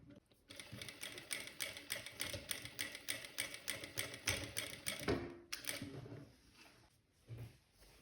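A sewing machine stitches the edge of a fabric turban in a steady, rapid mechanical clatter, then stops with a few handling sounds, close and quiet, with no voices.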